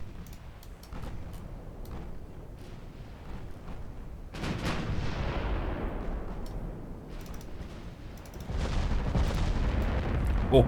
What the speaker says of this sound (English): So are the 12-inch guns from the 2 battle cruisers.